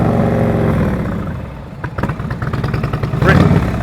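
A motorcycle engine putters at low revs during slow-speed riding practice, a steady close mechanical drone that turns into short, uneven throttle bursts toward the end.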